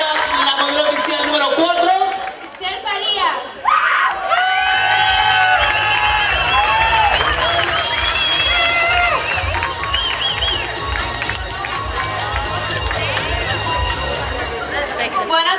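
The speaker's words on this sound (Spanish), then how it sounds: "Fuerte los aplausos para Giovanna Guzmán." Audience at the Expo Quinceañera NW 2018 opening for the Miss Quinceañera USA crown, loud cheering, shouting and clapping swelling through the hall over music, with a voice over the crowd near the start.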